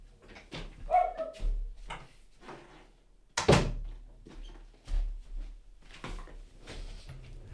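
A pet dog named Yoko at a home door, with door knocks or thuds and a few short barks and bumps at moderate distance, one sharp loud hit midway, in an otherwise quiet room.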